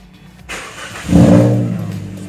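A car engine cranks and catches after a remote start from a smartphone, a brief starter whir followed by a loud, close idle that swells then settles steadily.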